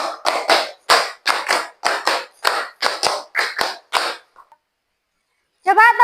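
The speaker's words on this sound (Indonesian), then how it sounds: "Tepuk 1, tepuk 2, tepuk 3, tepuk 4, tepuk 5 3 kali." A school class claps in a counted pattern during a religious education lesson, sharp group claps grouped in rising counts of one to five, then a pause before a voice speaks.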